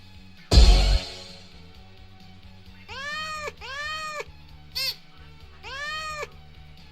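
A cat meows in a Roblox game: a loud thump opens, then four clear meows follow in quick succession, the third shorter and higher.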